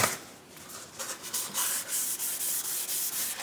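Steady rhythmic scratching of sandpaper rubbed back and forth by hand over a rounded wooden edge, close and fairly quiet, in even repeated strokes.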